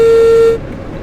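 One steady, loud diesel train horn blast in Train Sim World 2, lasting about half a second, then cutting off into a low background rumble.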